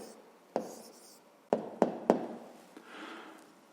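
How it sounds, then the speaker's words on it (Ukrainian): A pen writes an answer in a school maths notebook: a few sharp taps and short scratches of the nib on paper, close and quiet, with a softer scratching stroke toward the end. "Ну що ж, записуємо відповідь."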